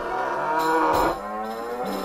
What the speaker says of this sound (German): Die Kuh mag nicht geschubst werden.